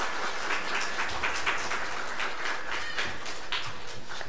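An audience at a Sunday church service claps steadily, a dense, sustained round of applause with no voices over it.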